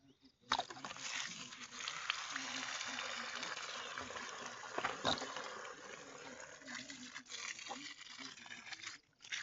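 Water gushes and splashes steadily from a reconnected tap pipe outdoors, starting abruptly after a brief quiet moment and continuing as a close, fizzing pour with small spluttering fluctuations before briefly cutting out near the end.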